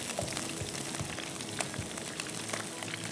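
Chicken fillet coated in flour, beaten egg and crumbs fries in oil with a steady, soft crackling sizzle and scattered pops, fairly close, with no talking.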